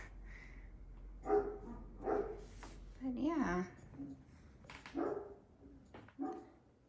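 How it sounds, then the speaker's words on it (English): A dog barks a few times in the background, fairly faint, while a person talks nearby. "We also have barking dogs in the background."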